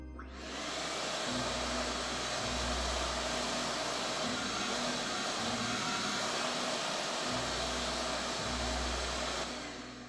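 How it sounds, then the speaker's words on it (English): A shop vac runs steadily and loudly nearby during faux fur weathering work, a continuous broadband roar with a low hum that pulses slightly as the hose moves over the fibers. "remember my trick from last video that I like to have a shop vac nearby."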